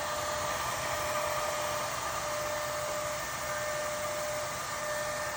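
Vacuum used to suck up baldfaced hornets on a high roof, running as a steady, loud broadband whoosh with a faint whine, continuous and unchanging throughout, with no voices.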